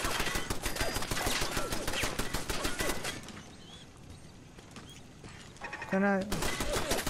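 A video game turret fires long rapid bursts of automatic gunfire, close and loud, pausing briefly in the middle before opening up again, while a player speaks over it.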